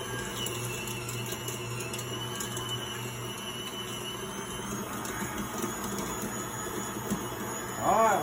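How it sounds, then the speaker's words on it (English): An electric meat grinder working through venison and pork, a steady motor whine with layered mechanical hum, close and even throughout, with a brief louder surge near the end. "Alright, we're just going to grind all this up."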